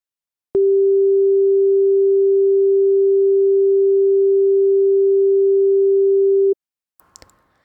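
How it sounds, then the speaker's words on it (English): A sustained pure sine test tone holds perfectly steady and loud for about six seconds, then cuts off abruptly, followed by a few faint clicks. "So you can see that for this sustained sine wave"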